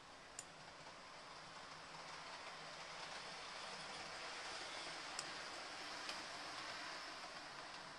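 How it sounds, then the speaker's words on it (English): A model railway train runs along layout track under computer control, a faint continuous whirr and rolling hiss with a few light ticks from the rails, no voices over it. "You can see as I adjust the slider, the train is being controlled from the computer."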